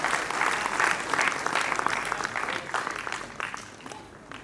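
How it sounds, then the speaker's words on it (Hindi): Applause from the audience at a kavi sammelan, a Hindi poetry gathering, greets a poet. The clapping starts dense and lively, then thins and fades toward the end. "एक बार आप सब जोरदार तालियों के साथ उनका स्वागत करिए"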